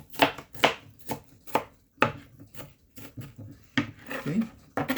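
A knife chops an onion finely on a board in a quick run of sharp, close taps, with a brief pause midway.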